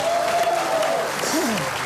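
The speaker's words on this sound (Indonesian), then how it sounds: "Oke, tepuk tangan untuk mereka berdua." A crowd applauds steadily throughout, with a whistle or high vocal tone rising over the clapping.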